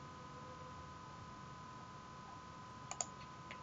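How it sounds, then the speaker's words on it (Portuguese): A computer mouse gives two quick, faint clicks near the end while working in an Excel spreadsheet, over a quiet, steady hum. "Vou dar mais um clique."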